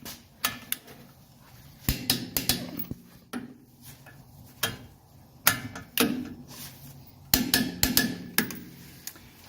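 A torque wrench tightens 19 mm nuts on a 1984 Mercedes 300CD front suspension, giving sharp metallic clicks and ratcheting taps in irregular bursts, close and moderately loud.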